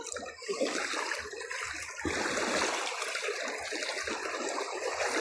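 Clear, cold water rushes and burbles in a stream in the Philippine countryside, a dense steady splashing flow heard close up without pause.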